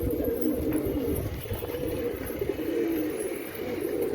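A pigeon coos softly and repeatedly, its low throaty calls continuous and fairly close at a pigeon loft, with no talking in between.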